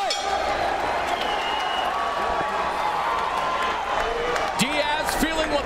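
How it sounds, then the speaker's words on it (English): Arena crowd at a Strikeforce fight event cheers loudly, a dense roar with whoops and whistles rising near the end, while commentators talk over it. "Listen to this crowd."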